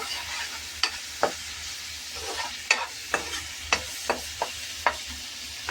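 Ginger paste fries in hot oil for a crab curry, a steady soft sizzle broken by sharp scraping clicks of a spoon stirring the pan every half second or so, close and alone with no voices.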